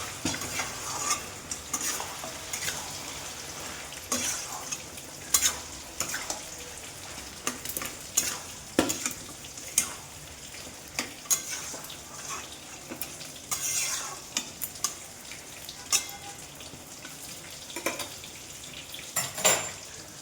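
Bottle gourd and egg curry stirred in a frying pan, with a spatula repeatedly scraping and knocking against the metal over a low sizzle, close up and steady, with no talking.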